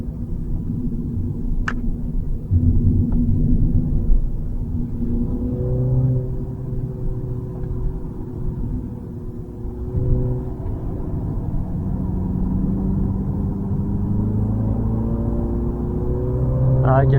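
Mini Clubman with its 306 hp engine, the most powerful Mini has built, driving on the Zolder circuit: a steady in-cabin engine drone rising and falling through gear changes, with a driver talking over it.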